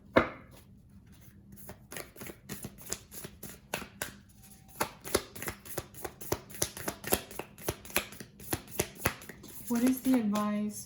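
Oracle cards being shuffled by hand: a rapid series of crisp riffling slaps and flicks, close and fairly loud, with a short stretch of speech near the end.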